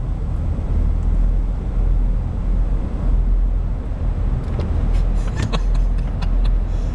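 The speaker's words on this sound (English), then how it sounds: "this one is a big truck or something, or a lorry, or a bus" A big truck, lorry or bus drives through an unlit one-lane tunnel in the Faroe Islands, its heavy engine rumble loud and continuous, with a few brief higher rattles and hisses near the end.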